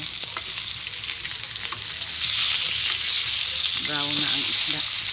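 Fish fries in a pan with a loud, steady hiss and crackle close up, swelling louder midway, with a brief clatter of handling near the end.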